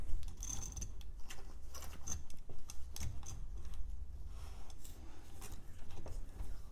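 Mechanical clicking and ratcheting as a bolt is spun onto a bi-LED projector retrofit in a Ford Ranger headlight, with close, irregular metallic ticks over a low hum and no talking.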